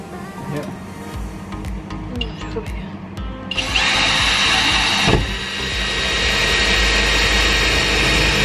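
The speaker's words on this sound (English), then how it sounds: "drill" A power drill bores through a van panel, starting as a steady loud whine partway through and holding continuously to the end, following quieter handling and faint voices.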